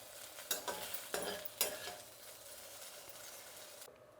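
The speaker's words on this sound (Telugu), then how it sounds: "ఇలా బాగా వేయించుకోవాలి బెండకాయలు." Okra sizzles softly in a pan while a spatula tosses it, with a few scraping stirs early on over a quiet, steady frying hiss that stops abruptly at the end.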